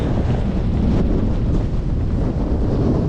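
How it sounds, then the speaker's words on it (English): Strong wind at a wild camp near Place Fell buffets the microphone in a constant low, rumbling roar, gusting without a break. "it's seriously windy"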